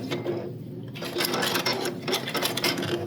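Sewing machine stitching a stay stitch along the edge of a fabric apron, a steady close mechanical whir with rapid needle ticking that runs continuously, briefly easing before picking back up.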